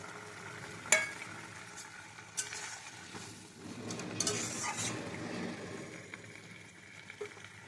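Paneer pieces go into a hot pan and are stirred for chilli paneer, the soft sizzle broken by a sharp clink of a spoon on metal and scraping strokes throughout, no voices.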